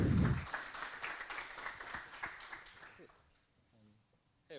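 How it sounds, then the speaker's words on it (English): Audience applause for an AI-in-education talk at a machine learning event, broad crowd clapping that starts loud, tapers off over about three seconds, then fades into quiet room noise with a brief voice at the end. "Please give him a big applause"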